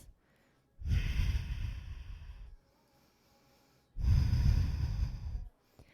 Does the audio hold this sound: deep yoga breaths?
yes